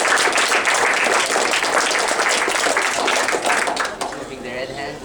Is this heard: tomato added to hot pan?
no